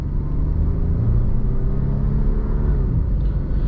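A 2012 Jeep Liberty with a 210-horsepower engine accelerating on a test drive, a steady low cabin rumble with the engine note climbing smoothly as speed builds.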